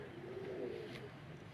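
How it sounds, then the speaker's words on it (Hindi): Lal Pari pigeons coo softly from a rooftop loft, a low rolling warble rising and falling once over faint background noise. "लाल परी कबूतर हैं जी"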